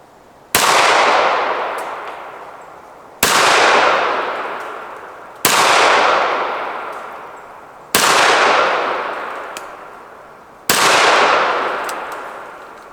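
Five loud pistol gunshots fired with only a laser sight for aiming, evenly spaced about two and a half seconds apart, each a sharp crack followed by a long ringing outdoor decay, with no talking.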